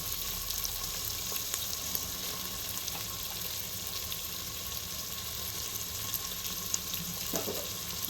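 Tomatoes frying in hot oil for biryani give a steady, even crackle and hiss that runs unbroken and fairly close, with no voices over it.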